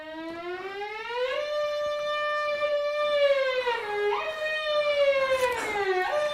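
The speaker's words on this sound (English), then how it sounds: "Just then, siren sounds." An air raid siren winds up from a low tone into a sustained, wavering wail with clear rising and falling pitch, loud and alone.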